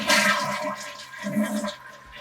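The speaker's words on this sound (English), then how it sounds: "now flush the toilet" A toilet flushes during a flapper replacement check, water rushing loudly and swirling down, then easing as the tank refills, with no talk over it.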